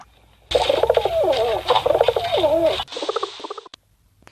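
A pigeon coos in soft, rolling, repeated phrases up close, followed by a few shorter throaty coos as the sound trails off.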